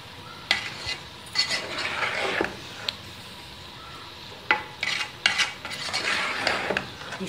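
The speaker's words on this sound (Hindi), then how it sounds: "चम्मच को चलाइए।" A spoon stirring rice through hot jaggery syrup in a pot, soft scraping sweeps punctuated by several sharp clinks against the metal, close up with no talking.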